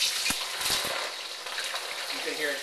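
Jumbo prawns flash fry in very hot oil, giving a bright, steady hissing sizzle with a few sharp pops and crackles near the start, close and continuous throughout.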